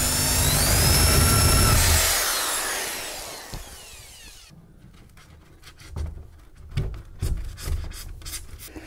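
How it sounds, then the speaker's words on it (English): A power drill whirs loudly for a couple of seconds while drilling a hole through a paint booth wall, winds down, then scattered scraping and knocking follow at a lower level. "we're going to drill a hole through the wall so that we can actually feed the cable"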